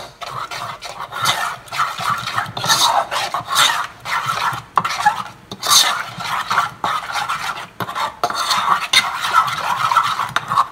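Rice flour dough for kholaja pitha being mixed by hand in a bowl, with continuous close squishing and rubbing strokes in an uneven rhythm, loud and alone.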